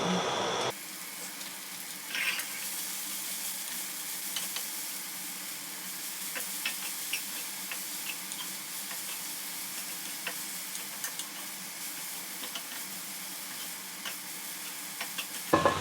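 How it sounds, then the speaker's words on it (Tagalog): Onions caramelizing in a pan give a steady, even sizzle, with soft utensil scrapes from stirring every few seconds; the frying stays close and moderately quiet, with no talk. "At gagawin ko siyang caramelized onion."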